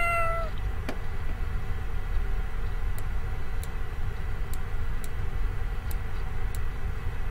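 A short synthetic cat meow plays from the HelloPurr phone app, a single clear call at the start, followed by faint scattered clicks against a low, steady background hum.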